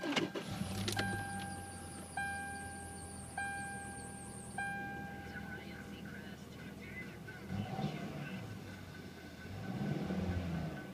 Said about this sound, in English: We'll go ahead and do a quick start up and drive.